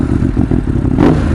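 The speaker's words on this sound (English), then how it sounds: "Right, let's get our engine started." A Ducati 916 motorcycle engine idles close by with a low, lumpy rumble, then gets a short, sharp rev near the end.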